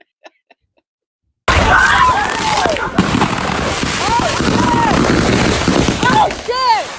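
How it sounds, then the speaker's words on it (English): Fireworks burst in a dense, loud, close barrage of crackling bangs and whistling pops after a few faint clicks and a sudden start, with people's voices mixed into the din. "Somebody should have took the firework from Babe."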